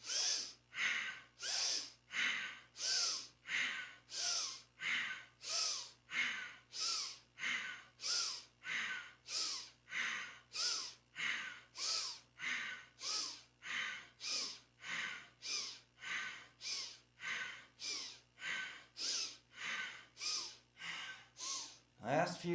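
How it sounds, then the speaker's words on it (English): Powerful rhythmic breathing through the nose in a Kundalini yoga exercise, around thirty sharp forceful breaths in a fast, even, regular pulse, close and clear over a faint low hum. "And again, maintain the powerful breathing."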